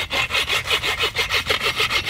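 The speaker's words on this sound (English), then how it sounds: "I'm kind of pulling this stick in as I'm sawing, so I'm getting like a double saw action." A hand saw cuts through a wooden stick outdoors at a bushcraft camp, with about a dozen steady, rhythmic rasping strokes back and forth, loud and close with no talking.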